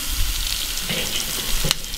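Steak searing on a grill over direct heat, a bright continuous crackling sizzle with a few sharper pops, close and loud, no talking.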